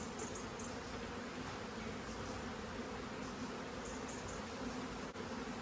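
Bees hum in a dense, continuous drone close to a hive, with a few brief louder buzzes from individual insects passing near.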